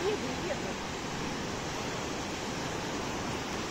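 Sea waves and wind on the coast make a constant, even wash of broadband noise that stays steady throughout without distinct breaks.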